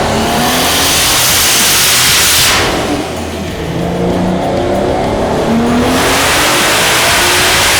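A Formula Drift car's engine screams loudly through rising revs during a dyno pull, dipping briefly mid-run before climbing again, close and continuous.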